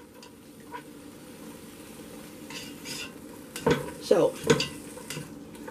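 Ravioli browning in a hot pan sizzles softly, then louder clattering scrapes of a utensil turning them against the pan come near the end, with one brief spoken word.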